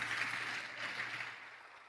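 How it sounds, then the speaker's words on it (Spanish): Applause from a church congregation during a Spanish-language sermon, a steady wash of clapping that thins toward the end, with a low electrical hum beneath. "quiero que le des un fuerte aplauso al Señor"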